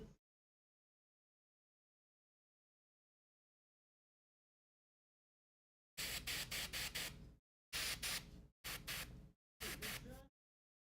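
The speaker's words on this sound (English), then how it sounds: "we're going to spray once more from above to bring down that pinky feel" A spray paint can hisses in four short, loud bursts after a long silence, each burst held for about half a second to a second and a half.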